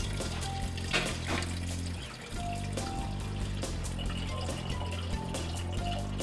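Silicone fluid poured into the internal bath tank of a lab circulator, a continuous trickling, splashing pour over a low background hum, with faint clinks and small tonal drips, no talk.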